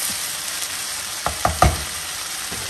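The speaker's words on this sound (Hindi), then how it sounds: "अब और मसाले, लहसुन अदरक दो चम्मच, इसको भी अच्छे से भून लेते हैं" Onions and whole spices fry for a mutton stew, giving a steady faint sizzle broken by a few sharp clanks of stirring in the pan, with no talking.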